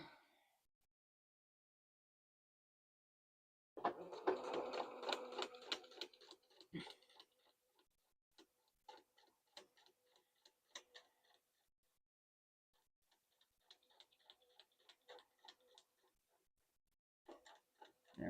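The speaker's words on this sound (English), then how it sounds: "So the seam I just sewed is 3 inches-ish." A home sewing machine stitching a short seam on a gem stone quilt block, a faint quick mechanical ticking run that starts abruptly, then scattered softer clicks and short bursts in a quiet room.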